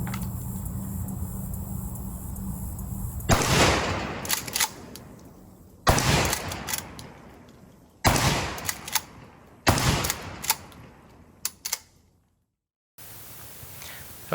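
A Remington 870 Express 20 gauge pump shotgun fires Winchester buckshot at an outdoor range, a few loud separate blasts several seconds apart, each with a short echoing tail.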